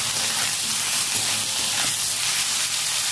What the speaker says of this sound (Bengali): এবার আমি ভালো করে ভেজে নেবো টমেটোটা